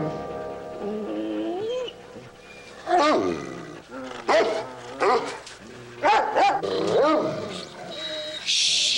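Dog howling at night on a ranch, a series of rising and falling drawn-out wails that come in several loud bursts over about nine seconds, with no talk.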